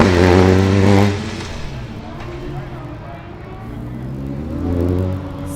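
A Formula Student race car engine drones and revs as it passes by on an autocross track, with someone talking over it throughout.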